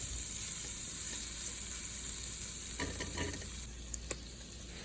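Grated garlic sizzles in a soup pot for a chicken veggie pasta soup, a steady close frying hiss broken near the end by a few light stirring scrapes and clicks.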